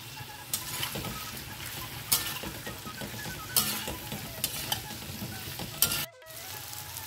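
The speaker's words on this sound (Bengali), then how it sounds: "এটা দিয়ে আমরা বেশ ভালো করে নাড়িয়ে চাড়িয়ে নেব।" Pumpkin pieces with turmeric fry in a pan, a constant soft sizzle broken by several scraping stirs and spatula knocks, ending in a brief silence before the hiss resumes.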